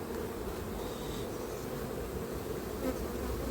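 Honeybees drone in a dense, steady buzz right at the entrance of a hive, close and continuous with no voices.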